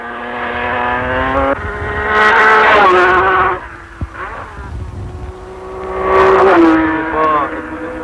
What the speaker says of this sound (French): la toute nouvelle Matra 650 s'élance pour 24 heures sur l'aérodrome de Marigny-le-Grand